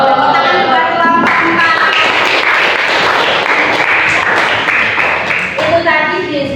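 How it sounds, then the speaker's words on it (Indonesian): A classroom group of students claps in a dense burst for several seconds, loud and close, with voices briefly heard before and after the applause. "Tepuk tangan buat kelompok"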